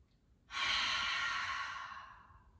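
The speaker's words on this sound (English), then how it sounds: "take a big breath in and out. Do that one more time, an open mouth exhale." One slow, deep breath ending in a long open-mouth exhale, a soft airy whoosh that swells and fades, heard alone in a quiet room during a yoga flow.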